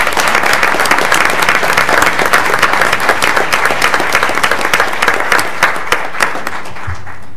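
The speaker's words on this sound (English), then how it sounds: "I would just love to give her a huge round of applause for everything" An audience at a city council meeting in Calhoun, Georgia, claps in a loud, dense round of applause that thins into scattered claps and fades out near the end.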